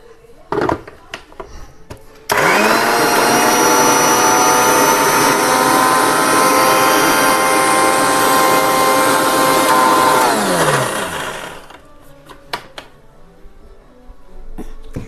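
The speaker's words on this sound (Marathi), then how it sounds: "आता मिरची वगैरे टाकून आपण वाटून घेऊया" A kitchen mixer grinder blending peanut chutney with chili and salt starts with a loud, steady whirring roar that runs about nine seconds. The motor whine sags in pitch as it stops, leaving quieter clatter.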